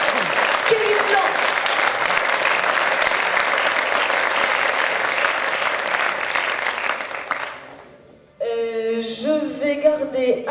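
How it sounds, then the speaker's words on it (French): Loud, sustained applause from an audience honouring an award recipient at a ceremony, dense clapping that fades out near the end before a brief musical fanfare takes over. "Je voudrais qu'on l'applaudisse très très fort, s'il vous plaît."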